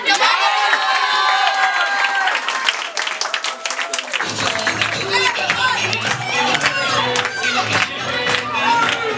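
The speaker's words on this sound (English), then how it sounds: "Clap your hands." A celebration audience claps their hands at a felicitation event, dense sustained applause with cheering and shouting that swells after a few seconds and stays loud throughout.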